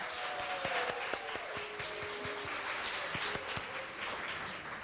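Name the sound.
audience applause at a graduation pinning ceremony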